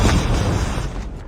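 A Predator missile strike in Call of Duty Mobile lands as one loud, close, rumbling explosion that fills the moment and then slowly trails off.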